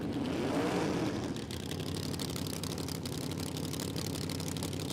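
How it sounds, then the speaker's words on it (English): Rob Chaplin's Camaro drag car lets out a loud gassy nitrous purge hiss lasting about a second, then settles into a rumbling engine idle. "So Rob shoots out the bit of a nitrous purge there"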